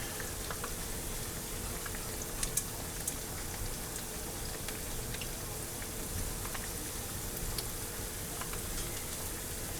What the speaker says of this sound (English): And just fry it until it's golden brown.